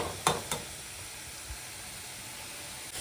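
Onion and capsicum sizzle as they fry over high flame in a pan, a steady broadband hiss with two sharp clattering stir sounds near the start and a soft bump midway, close and fairly loud, with no talking.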